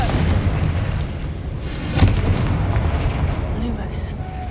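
Spell blast from the Confringo fireball in the Hogwarts Legacy game: a sharp explosive boom near the two-second mark rising out of a steady rumbling game backdrop, with a faint crackle and hiss later.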